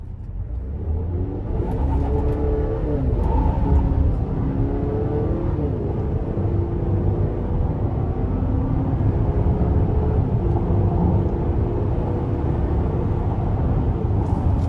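A 2025 Buick Enclave Preferred accelerates hard onto a wet interstate, its engine rising through steady revving pitch sweeps and shifting gears over a constant road rumble, heard from inside the cabin without talk.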